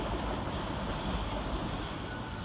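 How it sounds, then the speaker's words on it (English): Northern Rail train 150222 pulling into Halifax station, a steady low rumble of wheels on track with faint metallic squeal, continuous and fairly close, no talking. "Next in to arrive is 150222."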